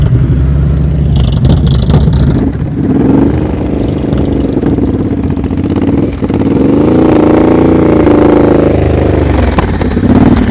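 A motorcycle engine runs loud and close during slow-speed riding practice, held at a steady throttle with rising and falling revs throughout, never dropping to silence.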